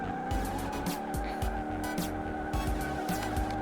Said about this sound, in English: first I need to do a burnout